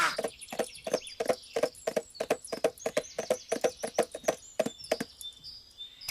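A horse's hooves clip-clop in a steady, even rhythm close by, about two to three strikes per second, with faint birdsong chirping in the background.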